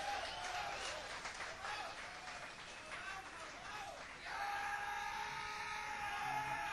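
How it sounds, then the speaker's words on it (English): Audience applause at a 1985 blues concert at The Jabberwocky, Syracuse University, Syracuse NY, steady and fairly loud throughout, with a voice speaking over the clapping. "Let's give him another big one applause."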